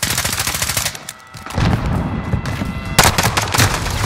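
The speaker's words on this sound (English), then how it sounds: "Firing." Heavy gunfire in Call of Duty: Modern Warfare, loud overlapping rifle bursts and booming shots, a brief lull near the middle, then renewed close volleys.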